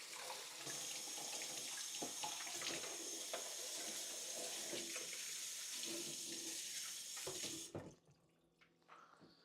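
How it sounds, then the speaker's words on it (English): Water from a kitchen tap runs steadily over a cracked dish being rinsed in the sink, a constant close splashing hiss with small clinks, which stops abruptly near the end, leaving quiet drips. "Yeah, I'm rinsing it."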